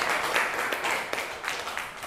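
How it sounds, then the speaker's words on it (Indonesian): A classroom group gives a brief burst of applause for group 2. The clapping is scattered and moderately faint, lasting about two seconds. "Tepuk tangan dulu untuk kelompok 2."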